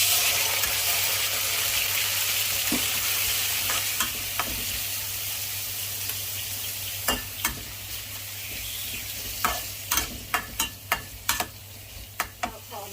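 Liver stir-fried with golden fried garlic in a pan, giving a steady close sizzle with scraping stirs and utensil clatters that grow more frequent toward the end.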